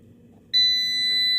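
After a short quiet hum, a faulty PS 1KVA hybrid inverter powered over USB emits a sudden sustained high-pitched beep-whistle tone that holds steadily to the end.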